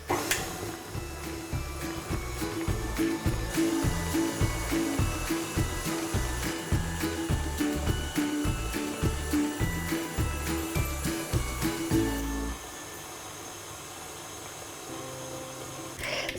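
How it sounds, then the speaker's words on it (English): A stand mixer with a dough hook kneads Christmas stollen dough on low speed, a loud continuous motor drone with a rhythmic thumping pulse that drops to a quieter hum near the end. "we're going to mix it on a low speed for about 3 to 5 minutes just to start forming those big old stretchy bits of gluten"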